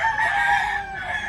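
A Grey and Ninja crossbreed rooster crows close by on a small farm, one loud, drawn-out call filling the short moment with no talking.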